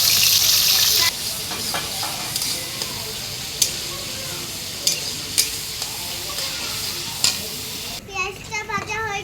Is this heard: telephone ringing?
no